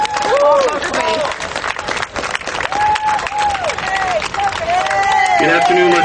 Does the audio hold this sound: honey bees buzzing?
no